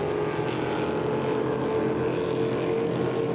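Pro Stock racing powerboats, including an SE runabout, run at about 100 mph on Greenwood Lake, giving a steady, loud broadband engine roar that holds without a break.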